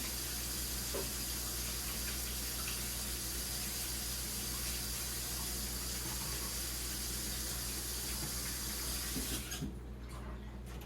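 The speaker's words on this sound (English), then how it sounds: "Let me get my hands washed because I handled an egg." Steady running tap water splashes into a sink as hands are washed, a continuous close hiss that cuts off abruptly near the end.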